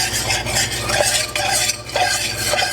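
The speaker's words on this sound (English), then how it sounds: "Now, there we go, just stirring it up." A spoon stirs golden turmeric tea in a pot on the stove, giving repeated scraping swirls against the pot with soft liquid sloshing, close and fairly loud, with no talking.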